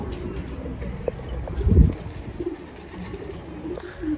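A female Hollanda pigeon coos softly among faint outdoor noise, with one louder, fuller coo near the middle, then quieter murmuring.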